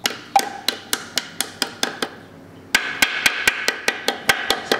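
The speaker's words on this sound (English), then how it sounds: "Soft hammer, by the way. There's a brass hammer." A soft brass hammer striking a Rolls-Royce Silver Shadow transmission part: a steady run of sharp metallic blows, about three per second, close and loud, with a brief pause before the rhythmic strikes resume slightly harder.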